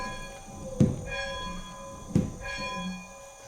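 An old school bell at the Akey School Museum in Wisconsin, rung by pulling its rope, gives two loud clangs a little over a second apart, each leaving a ringing metallic tone that decays slowly.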